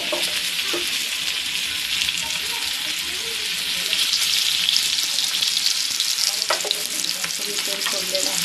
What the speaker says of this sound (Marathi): आता बाजूने मी तेल सोडते